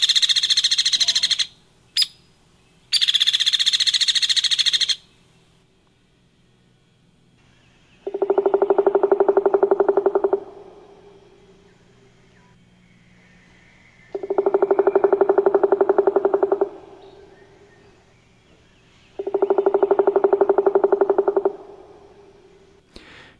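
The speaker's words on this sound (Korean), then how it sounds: "딱따구리가 울기도 하고 나무 부리로 또 먹잇을 찾아서 나무 기둥을 이렇게 두드리는 소리가 들리는 것이 숲속이고요" Woodpecker in an autumn forest, heard first as two bursts of rapid, high-pitched drumming and then as three long, evenly spaced hollow calls or rolls separated by quiet gaps, loud and alone without speech.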